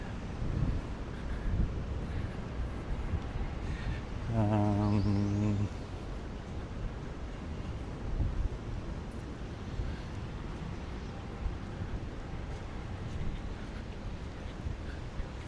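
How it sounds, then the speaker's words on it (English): Steady broadband wind rumble buffets the microphone throughout on a walk in Tokyo along the Chuo Line, with a brief tonal hum in the middle and no clear talking. "now it's super windy. Do you hear any wind noise at all?"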